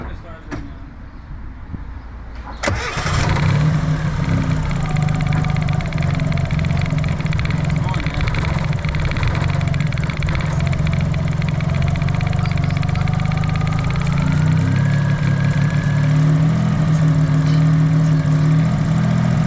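A Suzuki Cappuccino engine with a faulty idle starts up after a quiet moment and settles into a loud, close, steady idle with a slight uneven warble.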